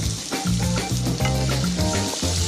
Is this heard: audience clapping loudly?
no